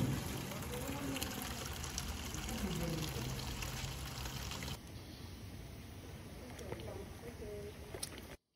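Hot water is poured continuously over oil to wash it during oil refining, a steady splashing stream that drops quieter partway through.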